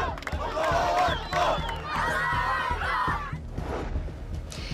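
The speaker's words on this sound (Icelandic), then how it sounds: "Mikil fagnaðarlæti brutust út á Gaza í morgun." Crowd in Gaza cheering and shouting in celebration of a ceasefire, a dense roar of many excited voices with rising yells, close and loud, easing off toward the end.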